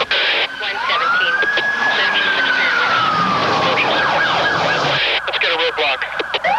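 A police car siren wails loudly in a sweeping rising and falling tone during a chase in a TV commercial, over engine and road noise, with a rapid yelp pattern toward the end.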